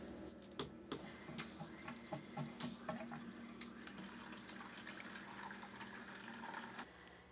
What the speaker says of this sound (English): After you've added 5 gallons of water to the 8 ounces of ProxyClean in your medicator bucket